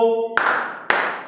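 Two sharp hand claps, about half a second apart, replace dropped letters in a children's English class singing of the Bingo song; a sung note sounds just before the first clap.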